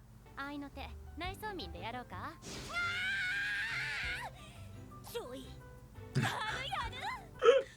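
An anime girl from My Dress-Up Darling gives a long, loud, sustained scream, framed by shorter excited voiced cries and yelps, with bits of character dialogue around it.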